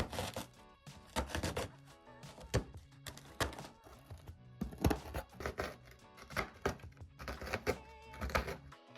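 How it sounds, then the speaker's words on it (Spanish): Quick, uneven chopping of a knife cutting cookies into small pieces on a cutting board, sharp crisp strokes repeating in bursts, close and clear with no talking. "solamente las voy a ir cortando en pedacitos"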